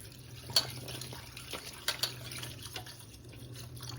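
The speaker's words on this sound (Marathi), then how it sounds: "मी बोंबील धुवून घेतलं. अजून 1 पाणी घेतलं धुवायला." Quiet splashing and dripping of water as Bombay duck fish are washed, with a few sharper drops and small clatters, close by and faint, without speech.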